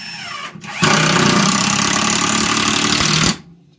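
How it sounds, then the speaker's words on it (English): A power drill whirs loudly for about two and a half seconds, driving a 2-inch deck screw into soft cypress wood, then stops abruptly, with quieter handling noise before and after. "So I'm going to attach these with 2-inch deck screws."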